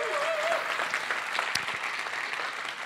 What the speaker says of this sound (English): Let's give a round of applause to all the organizers because they put together a great event,